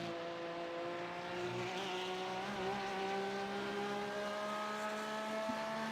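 Porsche race cars lapping Daytona's road course in the iRacing simulator, engines droning steadily at high revs as one closes on another, a continuous loud multi-car roar with harmonic whine throughout.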